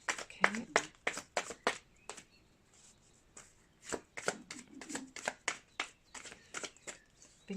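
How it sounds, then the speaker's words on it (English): Tarot cards are riffled and shuffled by hand in quick bursts of crisp slapping flutters, with short pauses between rounds and a quiet voice speaking at times. "I'm going to shuffle these 2 more times"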